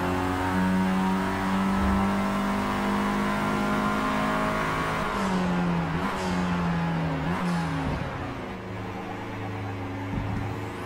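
Race car engine in an F1 racing game on the Yas Marina Circuit, revving hard at full throttle with rising and shifting pitch through gear changes, loud and continuous throughout.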